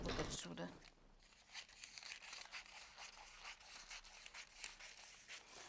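Scissors cut through fabric for a summer top with wrap-over panels, giving soft, faint crunching and tearing snips in an irregular rhythm after an initial brighter rustle.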